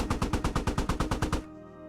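Vehicle-mounted machine gun in the game Squad firing a rapid burst of about a dozen evenly spaced heavy shots, loud and close, then cutting off into a faint ringing tail.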